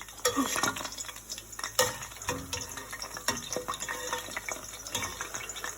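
Churros frying in canola oil, a bubbling sizzle under scattered clinks and scrapes of metal utensils against the pan, fairly close and steady throughout.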